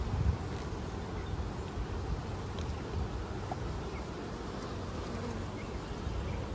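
Honeybees buzz around an open hive frame in a dense, continuous close-up hum that stays fairly quiet and steady throughout, with no one talking.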